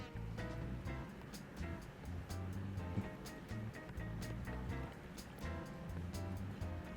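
Water sloshes and swirls steadily as it is stirred into flour for sourdough bread, a continuous churning wash with irregular splashy surges, fairly close and without speech.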